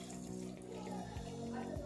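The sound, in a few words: half cup of water poured into mixed vegetables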